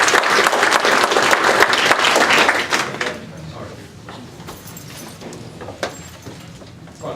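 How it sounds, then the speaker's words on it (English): Loud audience applause at a talk or lecture, dense clapping for about three seconds before tapering off into scattered claps and room noise. "let's give a round of applause and welcome"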